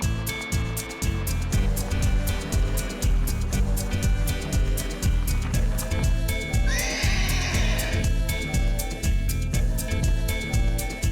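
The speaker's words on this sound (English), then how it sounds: "The horses soon show their appreciation of the space to move around in safely." Seized horses in a new, roomy enclosure, one giving a clear whinny midway over steady background rumble and clatter, moderately close.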